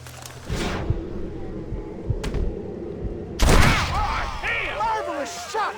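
Gunfire in the Western video game Red Dead Redemption: a few sharp close shots, one heavy blast dominating the middle and a smaller report just before it, over background game sound, followed by a voice speaking.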